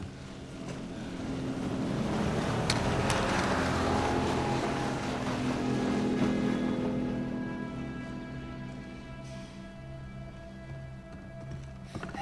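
A boat engine in Uncharted 4 drones steadily with wind and water rush, swelling louder through the middle and then easing off as the boat recedes, with no talk over it.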